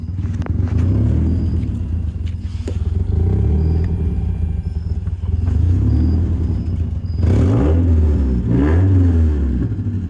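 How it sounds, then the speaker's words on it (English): A 1990 Mazda Miata engine rumbles steadily up close after a fuel pump replacement, then revs up and down with rising and falling pitch near the end. "But it's revving normal now,"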